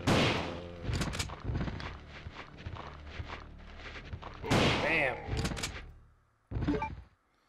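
Gunfire in the video game Resident Evil 2: several sharp, loud shots in an irregular sequence, each followed by a short decay, with game ambience and bursts of other sound between them.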